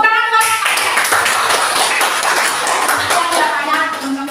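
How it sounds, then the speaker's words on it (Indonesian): Classroom clapping breaks out during an Indonesian biodiversity lesson, a burst of many hands that starts abruptly and continues steadily for several seconds, with voices mixed in. "tepuk tangan buat"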